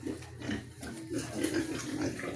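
A pregnant sow grunts and snuffles repeatedly up close, low rough oinks running continuously with some background noise.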